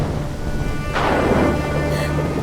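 Rain patters steadily as a sudden crash of thunder breaks in and rumbles on, loud and close.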